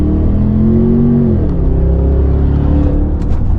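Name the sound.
Range Rover V8 P530 stainless exhaust revving, valves open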